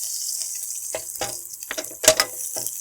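Curry leaves go into hot oil with garlic while cooking Kathiyawadi sev tameta shaak, spitting in several sharp sizzling bursts, loudest near the end.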